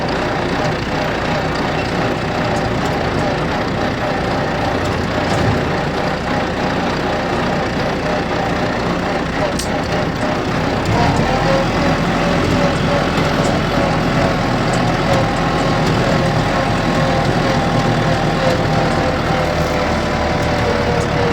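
A tractor engine drones continuously and loudly on a mountain road through forest, with a steady low rumble that deepens partway through, while voices talk intermittently over it.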